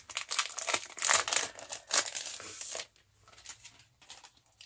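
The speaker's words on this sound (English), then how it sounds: "let's take it out of the plastic so it's not glaring" Plastic wrapping is crinkled and pulled off the contents of a Happy Planner box, a close, busy rustle for about three seconds that then drops to a few faint crackles.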